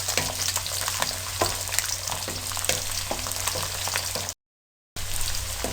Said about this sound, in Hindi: अब इसमें लहसुन डाल दें। लहसुन को भी आपने 1 मिनट से कम टाइम के लिए फ्राई करना है।